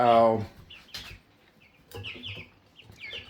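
Chickens cluck close by. A loud squawk opens, followed by scattered short clucks and soft calls in uneven bursts.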